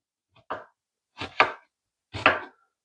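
Three crisp knife chops on a cutting board as a sweet onion is sliced thin for pico de gallo, each one a short separate stroke with a pause between, close and clear against silence.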